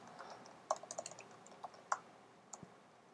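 Keys click on a computer keyboard as code is typed, a quiet, irregular burst of soft taps with a few sharper strokes, close by and with no talking.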